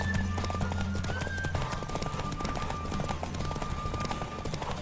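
A horse gallops at speed in The Witcher 3 video game race, its hoofbeats a steady rapid clip-clop over a sustained tonal hum, with a faint voice now and then.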